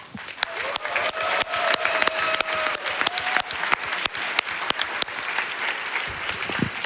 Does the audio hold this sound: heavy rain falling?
no